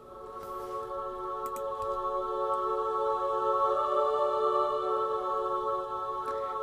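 Sustained synthetic soprano choir voices hold soft, airy chords in a high register, swelling slightly and fading a little toward the end, with no talking.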